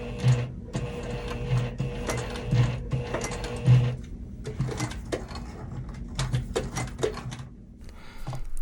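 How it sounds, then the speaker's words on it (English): Sewing machine stitching fabric for a phone crossbody strap, sewing an X and straight edges across a square; steady close mechanical needle rhythm with short pauses and clicks as the needle stays down to pivot. "I'm keeping my needle in the down position again and pivoting to sew back over that straight edge of the square, and I'm sewing to the corner"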